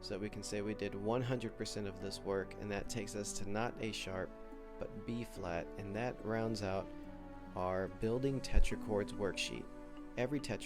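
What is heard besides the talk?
None of the usual background noises is heard.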